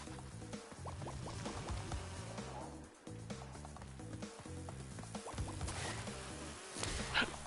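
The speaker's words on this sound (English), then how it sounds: "I'm trying to glitch these bees again." Buzzing bees in Crash Bandicoot 2: Cortex Strikes Back from the Crash N. Sane Trilogy on PS4, a steady insect drone running under busy, loud game music.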